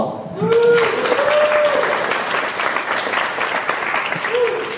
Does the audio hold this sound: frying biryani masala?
no